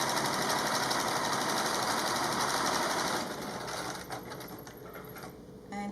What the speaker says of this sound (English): just sewing along like this. Now top stitching the top of the mask.